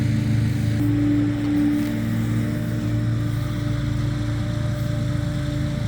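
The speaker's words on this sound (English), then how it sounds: "there is always a lawnmower going" A steady motor drones on continuously, a low engine hum like a lawn mower running some distance away, with no talking.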